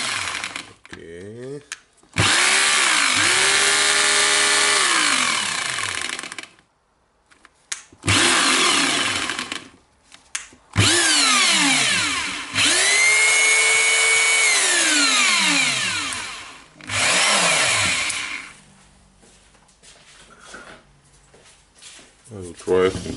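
A Hitachi Koki Hikoki DH28PCY hammer drill under repair spins up and winds down in several loud bursts, its motor whine rising and falling in pitch, with speech in the quiet gaps between runs.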